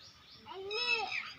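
A single short cat meow, faint and rising then falling, heard alone.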